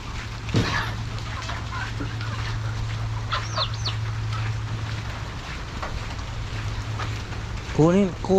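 Chickens cluck and call intermittently over a steady low hum and hiss, with a brief louder squawk near the end.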